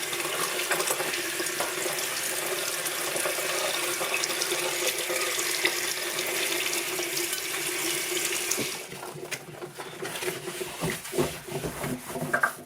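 A kitchen tap runs steadily for about nine seconds while a wall is rinsed, a close, even water rush that then cuts off, leaving faint dripping and handling sounds.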